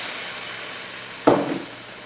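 Beef or vegetable stock poured into a hot pan of sausage, a sudden loud sizzle bursting in after a quiet stretch, then quickly settling to a softer hiss.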